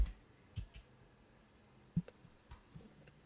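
A computer mouse clicks on a Windows PC, a few sharp, faint clicks spaced irregularly over a quiet background with no voices.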